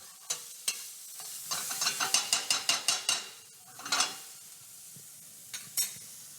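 Pine nuts toasting in a pan for a Sicilian-style arctic char dish, a soft sizzle broken by a run of quick stirring scrapes and clicks, fairly quiet and close, with no talking.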